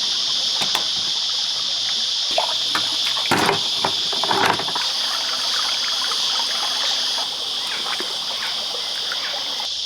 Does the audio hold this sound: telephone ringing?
no